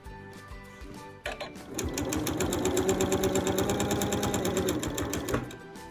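A sewing machine stitches quilt binding near a corner, running in a steady, fast mechanical chatter for several seconds after a few brief starts, close and loud, with no talking.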